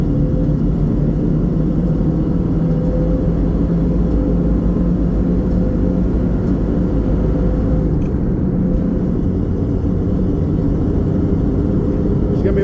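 A Ford Bronco cruising down the road, heard as a loud, steady engine drone and road rumble from inside the cabin, unbroken throughout.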